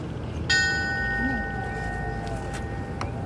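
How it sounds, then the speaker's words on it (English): A single memorial bell rings out once at a firefighters' remembrance ceremony in Edmonton, a clear metallic strike whose ringing tone slowly fades over a quiet room. "We will ring the bell on his behalf."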